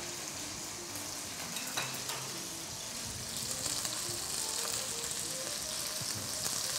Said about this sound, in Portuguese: A gente vai fritando